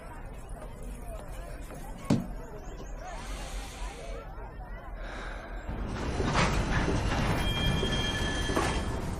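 A train in a movie scene rumbles and clatters at a moderate level, with a brief metallic squeal. The rolling noise grows louder toward the end, and people talk over it.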